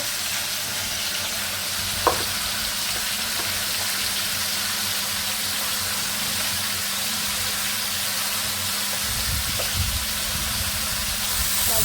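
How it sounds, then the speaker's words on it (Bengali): Steady, loud sizzling of onions and green chillies frying in a pan, continuous throughout, with an occasional faint clink of a utensil. "কাঁচামরিচ আর পেঁয়াজ ভেজে নিচ্ছি"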